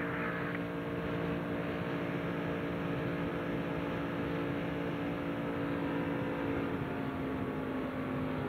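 A NASCAR stock car heard from the in-car camera at the 1996 Winston Select 500 gives a steady, loud engine drone that holds at high revs the whole time, with rumbling road noise mixed in.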